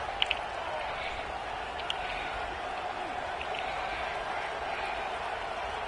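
A stadium crowd in a football video game roars as one steady, dense wall of noise, loud and continuous, with a few faint sharp ticks on top.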